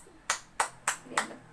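Children in an elementary school classroom clap four sharp, evenly spaced times in a quick, steady rhythm against a quiet room.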